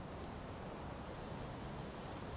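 Rushing waterfall heard from a trail walk in Washington's Cascades: a steady, dense broadband roar with no pauses or talk, moderately distant and unchanging throughout.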